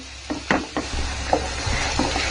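Khoya being stirred and roasted in a pan for Diwali gujiya, with a soft steady sizzle under a run of spoon scrapes and taps that land every half second or so, close by and moderately loud, with no talking.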